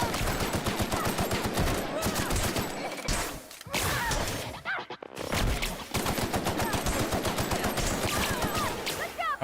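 Rapid bursts of gunfire aimed at the player in The Outer Worlds video game, loud and close, rattling in quick clusters with a brief lull near the middle before the shooting resumes.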